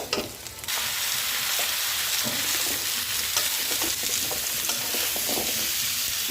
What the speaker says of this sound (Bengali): পেঁয়াজগুলো ভাজা হয়ে গেছে। এখন আমি এর মধ্যে দিয়ে দেব কেটে রাখা মিষ্টি কুমড়া।